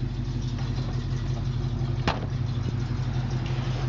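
A 1966 Ford Mustang Fastback V8 idles steadily, a constant low engine rumble close by with a brief sharp knock or click partway through and no talking.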